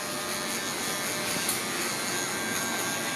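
A cordless Sterling 4s hair clipper fitted with a 1.5 guard buzzes at a steady, close, continuous pitch with no speech over it.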